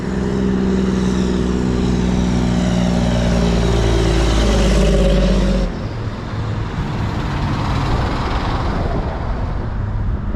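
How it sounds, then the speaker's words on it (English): Heavy trucks roll past close by on a road near an old bridge site in downtown Owego, New York, a loud continuous engine drone and tire roar that drops abruptly partway through into lighter road noise. "Now that those trucks have passed"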